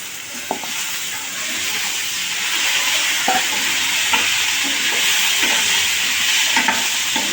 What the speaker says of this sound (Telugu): దీన్ని ఫ్రై చేద్దాం కాసేపు